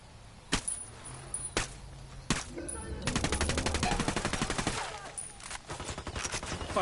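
Suppressed gunfire in the video game Ghost Recon Wildlands: three separate muffled shots, then a sustained rapid burst of automatic fire, then a quieter second burst over the game's background.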